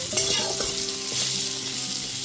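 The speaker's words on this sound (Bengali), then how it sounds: "আলুটাকে ভেজে নেব।" Potato pieces seasoned with salt and turmeric fry in a covered pan, giving a steady sizzling hiss with faint stirring noises throughout, close and moderately loud with no voices.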